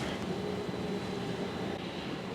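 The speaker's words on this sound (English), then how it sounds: "It's the engine just starting up downstairs." Ship's engine starting up below deck in the engine room: a steady, low, broadband rumble with a faint hum, continuous and moderately quiet, heard from a distance with no talk.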